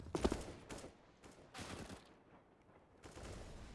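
Gunfire during a professional Counter-Strike match on the Train map, a headshot among several sharp broadband bursts spread across the moment, with a softer game background between them and no speech.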